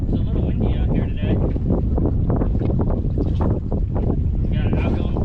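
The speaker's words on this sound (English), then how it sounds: "It's a little windy out here today." Wind buffeting a microphone on a fishing boat out on the water, a loud continuous rumble with gusts throughout, while a voice talks over it.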